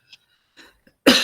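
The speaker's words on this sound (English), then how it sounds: "Sorry about this persistent cough." A lecturer's persistent cough bursts out loudly at the end, preceded by a few faint breaths and small throat sounds in an otherwise quiet room.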